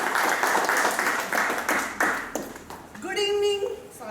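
An audience at a Toastmasters meeting claps in a quick, fairly loud rhythm for a few seconds. The clapping fades, and a person then starts speaking.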